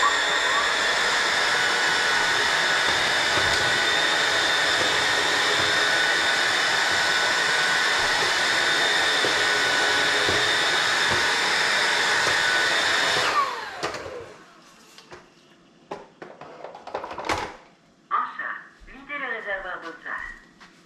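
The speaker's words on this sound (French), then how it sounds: "Les deux, après, ont un mode auto-nettoyage, donc qui va permettre de nettoyer les brosses, ainsi que tout ce qui est tuyaux." A Roborock Dyad wet-dry vacuum runs its self-cleaning cycle with a loud, steady whirring drone for about thirteen seconds, then shuts down, followed by quieter handling sounds and a voice speaking.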